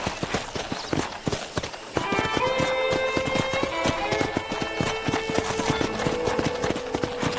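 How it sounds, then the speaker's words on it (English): Horse hooves clip-clop in a steady trotting rhythm in Red Dead Redemption, close and clear, joined after a couple of seconds by a light musical backing. "let's see if you can still ride a horse"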